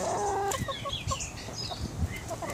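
Backyard chickens clucking and squawking in a garden while pecking at vegetable greens, a run of short, close calls and chatter with no talking.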